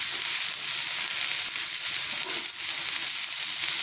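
Onions fry in a pan toward a light golden colour, with a continuous loud, close sizzle and brief dips as they are stirred. No voices.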